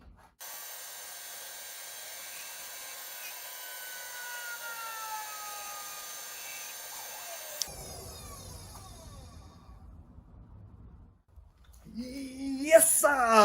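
A wood lathe spins epoxy and wood jewelry blanks during final polishing, giving a steady whirring hum with a faint rising and falling tone that cuts off partway, followed by low rumbling, knocks and a brief loud rustle near the end.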